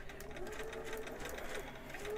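A sewing machine stitches fabric for a monk robe in a steady, continuous whirring run, close and moderately quiet.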